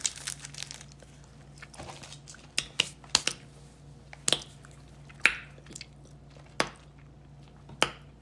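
Someone chews a chocolate and caramel snack up close, with sticky squishing and soft crunches between sharp crinkles of a wrapper, in quiet irregular bursts.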